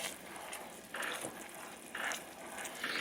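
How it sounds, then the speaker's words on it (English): Sugar mixture for sticky buns boiling in a pan, a soft continuous bubbling sizzle with faint stirring scrapes, quiet and close, with no talking. "my sugar mixture's come to a boil, so I'm going to boil it for about 30 seconds"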